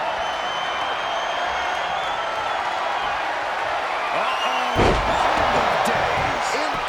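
A WWE 2K23 wrestler is slammed to the mat with a sudden heavy thud, set against a constant roaring arena crowd and ongoing commentary talk.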